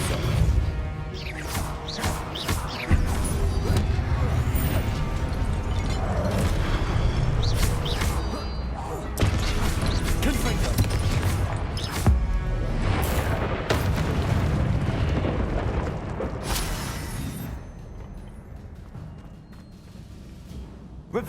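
Repeated booming spell blasts and crashes from a Hogwarts Legacy battle, loud and dense over a continuous rumble, with sharp impacts and whooshes throughout and no talking.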